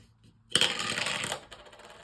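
Several dice tumble down through a butterfly-themed dice tower, a quick rattling clatter of hard knocks lasting under a second before settling, fairly close and alone.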